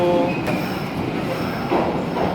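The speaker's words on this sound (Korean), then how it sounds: "킨테츠 한신 직결 운행하는 전철이 들어오고 있습니다." A Kintetsu-Hanshin through-service commuter train rumbles steadily into Osaka Namba station, with a brief metallic squeal of wheels near the end and a continuous low hum of rail noise.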